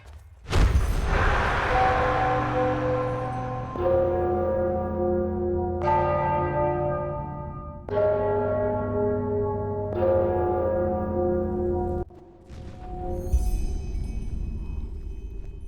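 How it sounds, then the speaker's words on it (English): Church bells ringing in the fantasy video game Enderal, a series of loud, resonant tolls struck about every two seconds, each ringing out and overlapping the last before fading, with no talk over them. "I'm sure the bells have something to do with the riddle."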